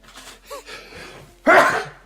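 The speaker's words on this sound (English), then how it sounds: "I have to sneeze." A single sharp sneeze bursts out after a few small breaths and throat sounds from a person at a microphone, loud and close.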